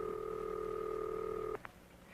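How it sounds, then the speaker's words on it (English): A steady telephone ringing signal heard after dialing, from an old instructional film on telephone use: a faint, sustained electronic tone that cuts off abruptly, followed by a brief click. "listen for the ringing signal."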